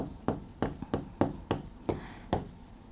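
Pen writing on paper, a run of about eight quick scratchy strokes in a steady rhythm, close and clear with no talk over it.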